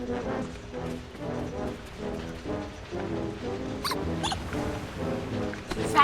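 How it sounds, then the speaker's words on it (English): A toy's sound effect in the Wallace & Gromit's Grand Adventures PC game, a bouncy repeating tonal pattern of pulses over a musical bed, with two short bright squeaky bursts near the end. "That's it! The sound of the toy!"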